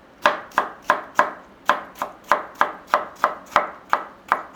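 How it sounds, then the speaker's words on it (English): A knife slices a vegetable into thin julienne strips on a cutting board, making a close, crisp, evenly paced series of about fourteen chopping taps with a brief gap near the middle. "I will cut it first into diagonal slices, cut into thin juliennes"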